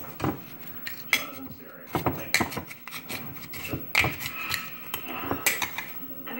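Coconut sugar spooned into a bowl for black bean brownies, heard as a series of scraping, rubbing spoon strokes against the bowl with occasional light clinks, close and moderately loud.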